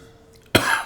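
A single sharp, close cough that bursts out suddenly after near silence and trails off.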